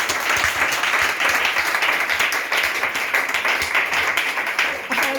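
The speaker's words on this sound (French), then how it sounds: "Acclamons Jésus." Church congregation applauding steadily and loudly throughout, dense clapping filling the room, with voices mixed in beneath the applause.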